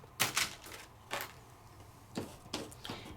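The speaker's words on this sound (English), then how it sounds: "And my scissors, and let's cut a piece of this off." Scissors snipping through a piece of paper during card-making crafts, several crisp close cuts in irregular rhythm with quiet pauses between.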